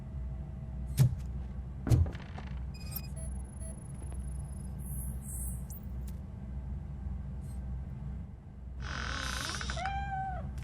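A cat meows in the video game RoboCop: Rogue City: two short, sharp calls close together near the start, then a longer, wavering meow near the end, all over a steady low background hum.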